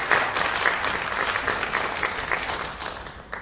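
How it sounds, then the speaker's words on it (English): Audience applause for a speaker at a band directors' conference in New Orleans, a steady dense clapping from a full room that holds for the whole stretch and thins slightly at the end. "Let's give Ms. Angela another round of applause."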